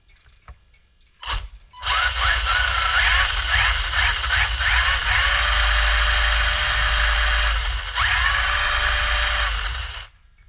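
Electric motor of a vintage Tamiya Lancia 037 1/10 RC car, driven by a Hobbywing 1060 ESC, whining steadily at close range for about eight seconds after a brief blip, then cutting off; no talking.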